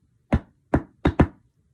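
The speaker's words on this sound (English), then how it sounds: "there was a knock at the door" Four sharp knocks on a door, close and clear: a single rap, a pause, then three quicker raps in a loose rhythm, with no voices.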